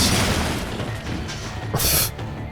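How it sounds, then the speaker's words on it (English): Two missiles launching and exploding in the SteamWorld Heist video game: loud, dense booming blasts that fill the short span, ending in a bright, crackling burst. "Let's launch 2 missiles."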